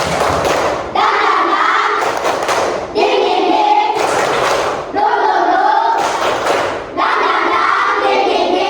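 A class of young pupils claps in a repeating rhythmic pattern, bursts of loud, close claps returning about every second over their chanting voices.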